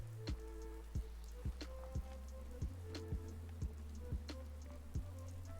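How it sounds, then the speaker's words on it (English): Rain falling in Fallout 4, in a modded survival playthrough, keeps up a steady patter with a regular series of sharp ticking hits and faint tonal hums running underneath, with no talking. "Just thinking how wonderful it'd be to get out of this infernal rain."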